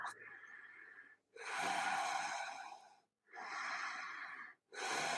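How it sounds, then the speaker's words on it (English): Slow, steady Ujjayi breaths during a vinyasa yoga practice, close and audible, with long hissing inhales and exhales separated by short silent pauses, three to four breath phases in a row. "Steady Ujjayi breaths."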